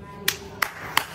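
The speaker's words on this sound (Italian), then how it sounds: "Un applauso, ragazzi!" Three sharp, evenly spaced hand claps from one person in a home studio, close and distinct over faint background hum.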